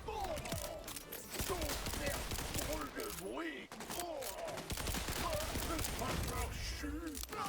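Rapid gunfire from a small six-round pistol in the video game Borderlands 4, loud repeated shots layered over busy game music and effects, with someone talking in French throughout.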